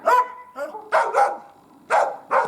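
Close, loud barking from a dog used to hunt forest game birds and marten: about six sharp barks in uneven clusters with short gaps, heard alone without talk.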